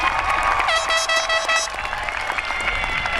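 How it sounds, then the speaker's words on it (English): Audience at a high school commencement claps in a sustained round of applause, a dense crackle of many hands near and far, with a brief tonal musical flourish rising over it early on. "Please give them one more round of applause."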